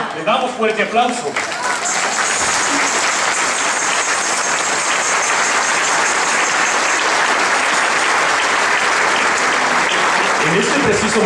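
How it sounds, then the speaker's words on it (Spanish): A large crowd at a diocesan assembly honoring the Virgin of Soriano breaks into loud, sustained applause that holds dense and steady for about ten seconds, after brief voices at the start. "Fuerte aplauso."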